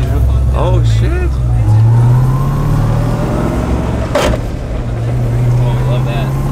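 A Ford Mustang drift car drives close by with a loud, steady low engine drone that shifts pitch through gear changes, while people talk excitedly over it.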